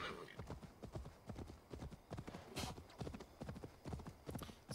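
Horse hooves in Assassin's Creed Valhalla clopping in a quick, steady galloping rhythm, close and prominent throughout, with a brief snort or whinny partway through.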